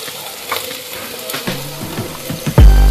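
Turmeric and Kashmiri chilli powder fry in a pan for a mixed vegetable tehari, with soft stirring scrapes and light crackles before a sudden loud surge of sizzling.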